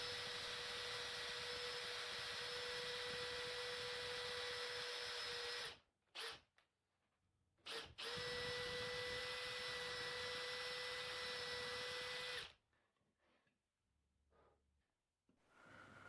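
Power drill boring a hole through the wooden tail of a handmade push stick, a steady high whine running for about six seconds, pausing briefly, then a second long run before it stops and the room goes quiet.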